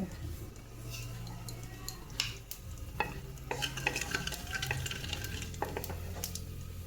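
Quiet sizzling of poppy seeds frying in oil, with scattered utensil taps and scraping stirs through the clip.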